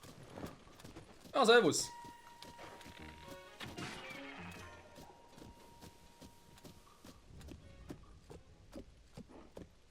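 Horse hooves galloping in the video game Zelda: Tears of the Kingdom, a rhythmic run of clopping footfalls beneath someone talking, with a loud crash near the start and game sounds around it.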